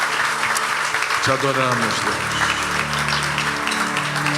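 Congregation clapping during an evangelical church service, a dense continuous wash of applause while a voice speaks and a sustained musical tone plays underneath.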